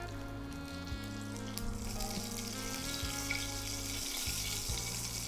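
Sesame seeds sizzle in hot oil for a tempering while making handvo, a steady close crackle and hiss with faint hum and stirring underneath.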